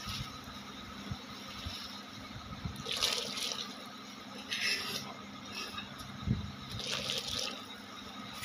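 Water poured from a vessel trickles and splashes in a few separate bursts over a steady low background, close and fairly quiet, with no talking over it.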